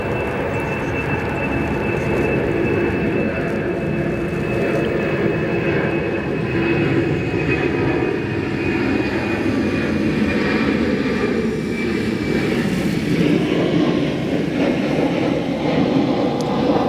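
Jet engines of a UPS Boeing 767 roar steadily at O'Hare airport, a loud sustained rumble with a high whine running through it and no talking.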